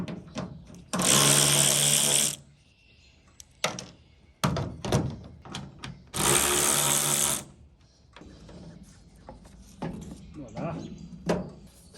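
A ratchet backs out T30 screws from a Toyota Tundra bed liner, with two sustained bursts of rapid clicking separated by scattered thunks and knocks, close and fairly quiet.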